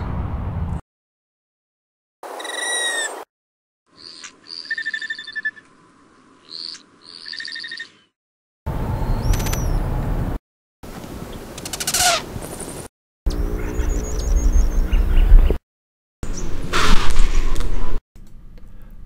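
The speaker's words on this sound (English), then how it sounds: "Most of the sounds I just played were made by the tail, and each species sounds different." Hummingbird courtship dive sounds made by spread tail feathers, a series of short separate bursts from several species: sharp chirps, buzzy whistles and trills, each fairly loud and close, divided by brief silences, with no talk.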